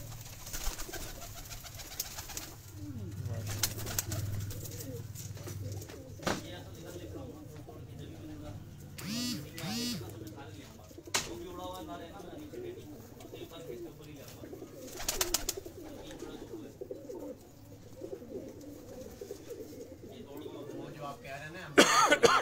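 Jithri pigeons kept on a rooftop coo softly in low bursts through a long stretch, mixed with coughs, throat clearing and people talking nearby.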